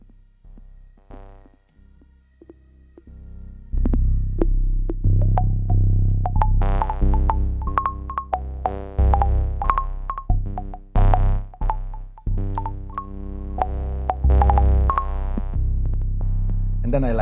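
A synth signal driven hard through a Euterpe Vertice filter bank gives a gritty, distorted, heavily saturated tone, with loud sustained notes, pitched harmonic stacks and sharp pulsing hits repeating over about seventeen seconds.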